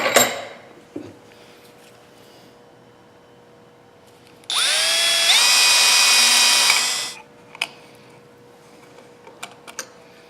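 A power drill whirs for a couple of seconds while drilling a box hinge mount, spinning up in pitch and then winding down, with scattered clicks and handling noises around it.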